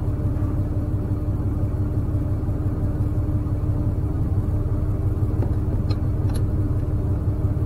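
A car moving along the road, heard from inside as a steady, close engine and tyre rumble that holds constant throughout with no talking.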